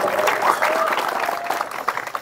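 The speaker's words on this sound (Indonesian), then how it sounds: "Tepuk tangan untuk beliau." An audience at a talk about sports bouts applauds a questioner. The clapping is dense and sustained and tapers into scattered claps at the end.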